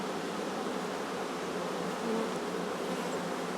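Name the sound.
honeybees buzzing around an open hive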